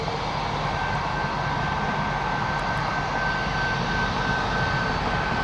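Jet airliner engines roaring steadily at Toronto Pearson airport, likely a Swoop aircraft lining up on runway 23, a continuous loud rumble with a faint high whine, no voices.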